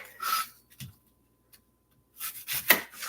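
Onion, garlic and mushrooms chopped with a hand chopper in a home kitchen, giving scraping, rustling bursts at the start and end with a couple of soft knocks in a quiet stretch between them.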